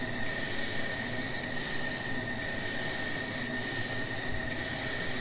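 A light airplane accelerates during a recovery manoeuvre, its engine a steady, loud drone with a constant whine, unchanging throughout, heard from inside the cabin.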